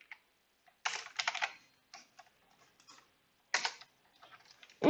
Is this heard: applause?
no